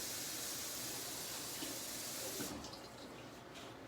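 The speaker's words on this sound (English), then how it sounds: "I'm going to put my 3/4 cup of warm tap water in there, hot tap water" Hot water runs from a tap in a steady hiss for a few seconds, then fades to a quieter trickle.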